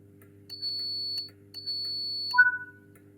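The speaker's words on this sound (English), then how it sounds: "Acknowledge receipt of this by responding with 2 tones" Two steady electronic tones, each about half a second long, sound in the cab of a British Rail Class 87 locomotive. A brief, higher two-note beep follows them over a faint low hum.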